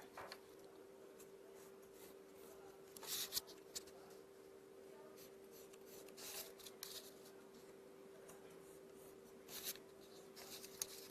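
Pencil sketching a Chinese paper-cutting pattern (a double happiness design) on paper, a faint continuous scratching with occasional louder strokes and rustles, no talking.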